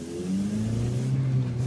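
A car engine revs up steadily as a first-time driver presses the gas in first gear, a close, continuous rising drone with no talk.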